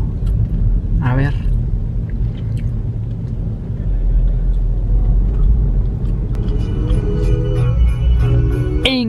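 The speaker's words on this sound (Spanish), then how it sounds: "Increíble, pero el tráfico está terrible" Heavy road traffic heard from inside a car stuck in a slow commute, a steady low engine-and-road rumble filling the cabin throughout, with brief tonal sounds rising near the end.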